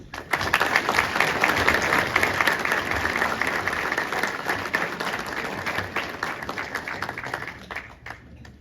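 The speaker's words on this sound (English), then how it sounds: "please join me in a warm round of applause for these awardees." Warm, sustained clapping from a seated audience greets awardees at an Army Engineer Basic Officer Leadership Course graduation at Fort Leonard Wood. It stays full and steady for most of the stretch, then thins and fades near the end.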